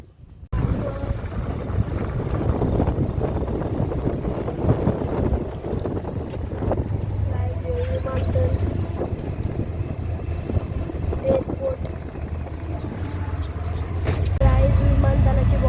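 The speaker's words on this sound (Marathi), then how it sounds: "बघा गाईज. गाड्या किती चालू आहे तिथं" Road traffic moving along beside a creek near an airport boundary, heard as a steady, fairly loud rumble of passing vehicles mixed with wind buffeting the microphone, swelling louder near the end.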